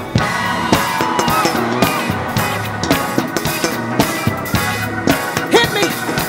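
A church crowd at a COGIC women's convention crusade screams and whoops on cue over loud gospel music with a pulsing bass line, the voices rising in repeated bursts throughout.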